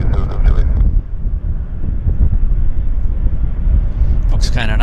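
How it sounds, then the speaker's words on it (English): Strong wind buffets the microphone in a steady, loud roar at an airport during heavy arrivals, with a voice talking over it throughout. "the winds have really picked up"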